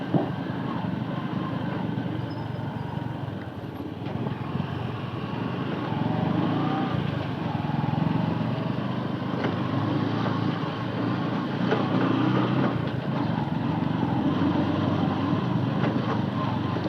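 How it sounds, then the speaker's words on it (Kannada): A ferry boat's engine at a river crossing near Parangipete, Mangalore, gives a continuous low rumble mixed with wind buffeting, growing slightly louder partway through and holding steady. "ಬೋಟ್ ಬರೋನುಂಡು"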